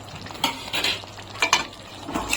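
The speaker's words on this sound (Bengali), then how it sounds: "আলুগুলো এখন আমি দিয়ে দিচ্ছি" Potatoes tipped into a pan of frying lemon chicken, a few close clattering scrapes and knocks of a utensil over a low sizzle, brief and without talk.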